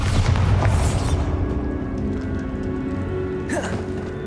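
Spell explosion in the Hogwarts Legacy video game, blasting through a barricaded archway: a loud, rumbling boom at the start that fades into a lingering low roar, with a second whooshing burst near the end.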